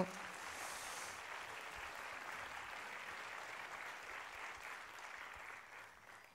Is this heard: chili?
no